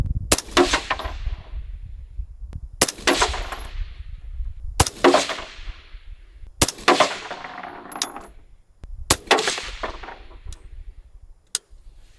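Six sharp rifle shots from a Springfield SAINT Edge ATC firing Hornady Black 75 grain boat tail hollow point rounds at a range, spaced roughly two seconds apart, each loud crack trailing off into a short echo.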